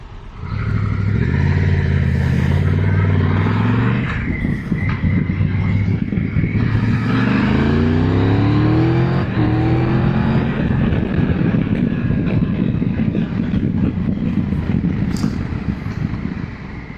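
Motorcycle engine heard from the rider's position while cutting through city traffic, a loud steady drone with rising and falling revs as it accelerates, other vehicles mixed in around it.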